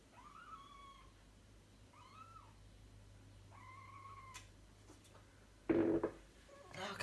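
A pet cat gives several drawn-out meows, close and fairly quiet, in a calm indoor room, followed by a couple of louder bumps and knocks near the end.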